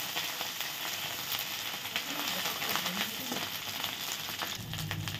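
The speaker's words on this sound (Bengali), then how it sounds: "আর অল্প আমি জিঞ্জার দিয়েছি, একটু নেড়ে দিব" Ginger sizzling steadily in hot oil in a pan for a Bengali urad dal bori curry with bay leaves, with a continuous close frying hiss and faint scraping as it is stirred, no talking.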